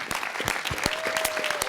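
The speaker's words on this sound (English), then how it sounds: "give you an appropriate and grateful round of applause" A city council chamber audience gives a round of applause for a staff team at a ceremonial session, with dense, steady clapping close by and a few louder individual claps standing out.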